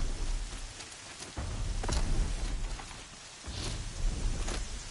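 Heavy rain in the video game Horizon Zero Dawn pours steadily with dense drops hitting a surface, swelling in waves, and a low rumble like distant thunder underneath.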